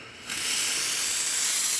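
A La Pavoni Piccola 3622 espresso machine's steam wand bursts into a steady, bright, close hiss after a short quiet start and keeps blowing evenly to the end.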